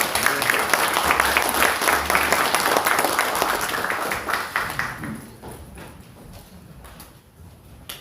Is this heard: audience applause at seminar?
yes